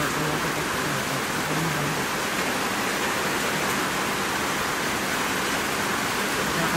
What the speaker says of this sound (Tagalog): Ayan, lumalakas na nga rin ang ulan.